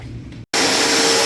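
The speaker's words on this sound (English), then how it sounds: "They are vacuuming all the corners and all the floor." A vacuum cleaner works on floors after a renovation. A low hum cuts out briefly, then a loud, steady whining roar starts up close by.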